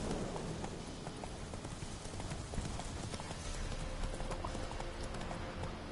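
Roach, a horse in a video game, walks with steady rhythmic clip-clop hoofbeats over a soft game ambience, fairly quiet, with no voices.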